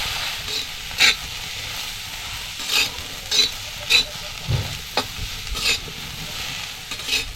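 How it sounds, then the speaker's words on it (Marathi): Cluster beans are dry-roasted and stirred in a tava over a wood-fired chulha, with a soft continuous sizzle broken by a series of sharp scraping strokes at irregular intervals. "एक मिनिट गवारी अशी मी चांगली परतवून घेतली आहे"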